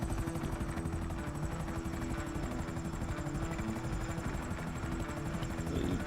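A helicopter drones overhead with a steady rapid rotor chop and a constant low thrum, moderately distant and even in level for the whole stretch.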